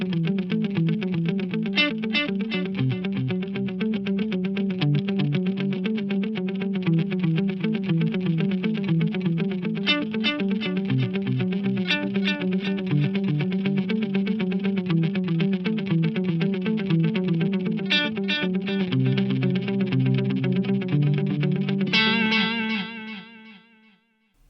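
Electric guitar played through rack-style delay pedals with modulation, a steady strummed and picked passage carrying wobbly, chorus-like repeats, loud and continuous, ending in a ringing final chord that fades out.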